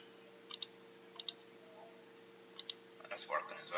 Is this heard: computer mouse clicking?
yes